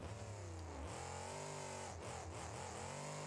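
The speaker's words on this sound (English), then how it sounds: "Most any big V8 engine will have sounds similar to this" A deep, throaty V8 engine in BeamNG.drive revs steadily and loudly, with its pitch rising and falling through several throttle blips. The game sound plays alone, with no voices.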